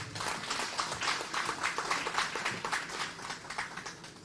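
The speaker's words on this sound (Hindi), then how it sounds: "और इसी के साथ एक बार जोरदार तालियां" A crowd's applause at a Rajasthan public event comes through as dense, even clapping with a slightly rhythmic pulse, moderately distant and sustained for the whole stretch.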